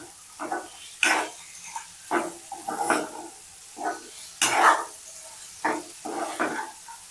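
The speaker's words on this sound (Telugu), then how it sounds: "బాగా కలుపుకోవాలి." A spatula stirs okra (bendakaya) fry in a pan, with intermittent scraping and clinking strokes and a soft sizzle, close and moderately loud.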